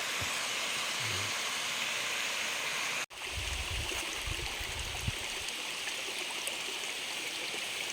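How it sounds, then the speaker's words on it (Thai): The Huai Tu waterfall in Thailand roars steadily nearby, a dense, continuous rush of falling water that fills the whole scene without pause. "นี่คือน้ำตก ห้วยตู้"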